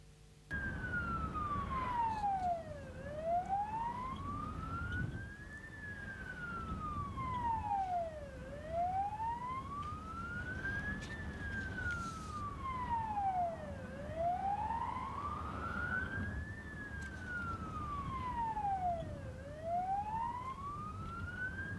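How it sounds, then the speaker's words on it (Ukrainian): A wailing ambulance siren sweeps slowly up and down in a repeating cycle, loud and steady against low road traffic rumble on the streets of Ternopil. "автомобіль медиків з увімкненим спецсигналом патрульної поліції проїхали вулицями Тернополя"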